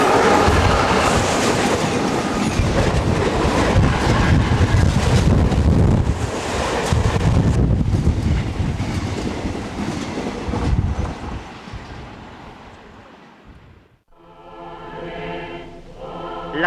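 A train rolls past on railway tracks, a loud, rumbling passage with wind buffeting the microphone, gradually fading over several seconds before a quieter tail.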